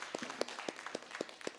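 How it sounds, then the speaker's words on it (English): At an ophthalmology conference session, a small audience claps thinly, about eight distinct sharp claps spaced unevenly, fairly quiet. "Round of applause, please."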